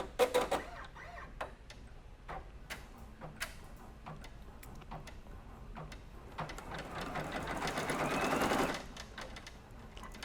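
A free arm embroidery machine stitching in a steady rapid ticking rhythm, with sharp clicks and a rising whirring hum that builds before stopping, heard close with no voices.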